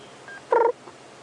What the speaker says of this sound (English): So one of our smallest little owl species, a Scops owl.